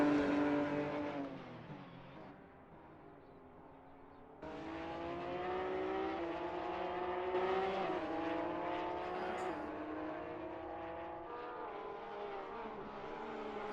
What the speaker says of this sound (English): you hear the wonderful engine noise of the Boxer engines from the Porsche Cup car